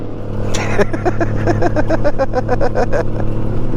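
Split-wheel bicycle ridden fast along a highway, giving a loud steady rush of wind and road noise overlaid with a rapid rhythmic clatter of regular knocks from the split wheel, continuous throughout.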